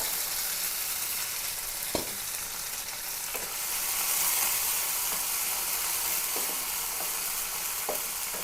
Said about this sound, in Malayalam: ഇതിലേക്ക് കറിവേപ്പില ഇട്ട് കൊടുക്കാം പിന്നെ ഉള്ളിയും വെളുത്തുള്ളിയും പച്ചമുളകുമാണ്